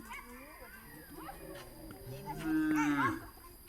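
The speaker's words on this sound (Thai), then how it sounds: "ค่ำมางัวควายมาบ้าน" Cattle and buffalo come home in the evening in a Thai village, with a few low moos rising near the end amid background chatter and village noise.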